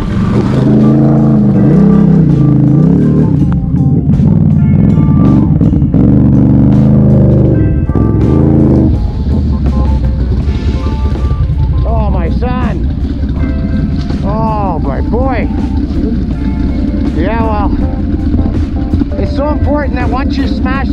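A Can-Am Renegade XMR 1000R ATV, stuck off-road, revs loudly under throttle with rising and falling engine whines over a constant rumble, while people talk and shout nearby.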